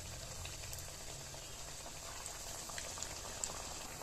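Pithas for dudh puli fry in hot oil in a wok with a soft, steady, bubbling hiss. The sound is faint and even, with occasional tiny pops and no voices.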